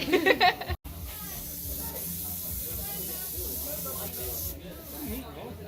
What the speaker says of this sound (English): doing my airbrush makeup tonight for Halloween